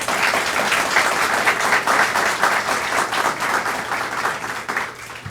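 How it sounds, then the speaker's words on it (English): An audience at a talk on gratitude and mindful living breaks into steady, dense applause, many hands clapping together close and loud before it tapers slightly toward the end. "can we give them a round of applause?"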